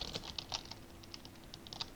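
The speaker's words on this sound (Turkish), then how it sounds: "Klavyenden acayip sesler geliyor." Rapid computer keyboard typing during a Murder Mystery 2 game, a steady run of light clicks and keystrokes at close range, heard alone without talk.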